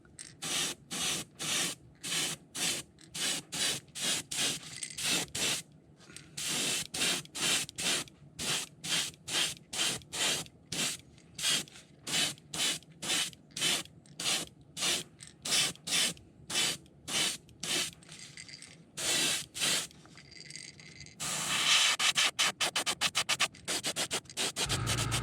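An airbrush sprays paint onto a crawfish fishing lure in short, rapid bursts of hissing spray, dozens of quick evenly spaced pulses close up, ending in a longer continuous spray.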